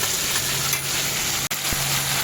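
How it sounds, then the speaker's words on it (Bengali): Steady hiss and crackle of spice paste frying in a pan, with a sharp clink of a utensil against the pan partway through. "এইভাবে এটাকে আমি কিছুক্ষণ কষাবো, আরও কিছুক্ষণ কষাবো"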